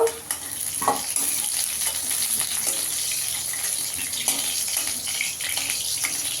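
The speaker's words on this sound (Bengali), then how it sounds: "আলুটা একটু লাল করে ভেজে নিয়েছি" Potatoes frying in hot oil give a continuous close sizzle and crackle with faint occasional clinks of utensils, no voices heard.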